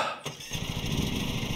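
Lawn mower engine in the video game Lawn Mowing Simulator catching and settling into a steady, buzzing idle after a brief starter sound, close and moderately loud.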